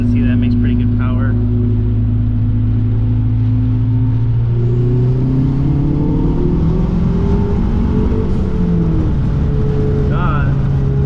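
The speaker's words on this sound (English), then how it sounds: "I'll do like a little 40 roll on for you guys, so you guys can see that makes pretty good power." A Mazdaspeed3 tuned to about 350 wheel horsepower accelerates hard in a 40 mph roll-on, its engine drone climbing steadily and loudly in pitch from inside the cabin for about eleven seconds.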